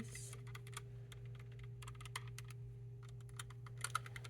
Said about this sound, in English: this is the Logitech keyboard